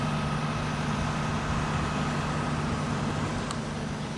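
A bus engine drones steadily from inside the moving vehicle, a low continuous rumble with road noise, fairly quiet and unchanging.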